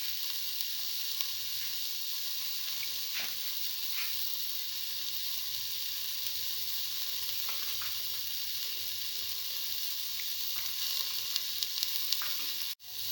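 Spice mixture sizzling in a hot pot for a split pigeon pea and potato stew, a steady bright frying hiss that carries on evenly, ending with a brief clatter.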